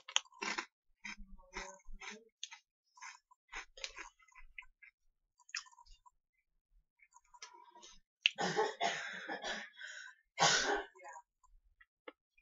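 Flaming Hot Cheetos are crunched close to the mouth in several bursts of crisp, clicky chewing, separated by quiet pauses, with the loudest bites near the end.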